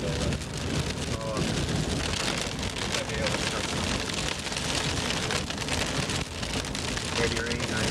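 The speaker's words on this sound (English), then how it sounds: "Heavy rain right now." Heavy rain hammers down steadily during a summer storm chase near Douglas Provincial Park, Saskatchewan, a dense, loud wash of drops on a vehicle with low rumbling underneath and voices talking at moments.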